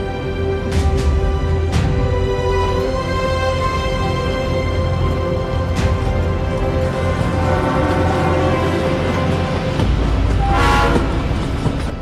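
The Kalka Shimla toy train running through Himachal Pradesh gives a loud, continuous rumble of rolling wagons with rhythmic clatter and a horn sounding.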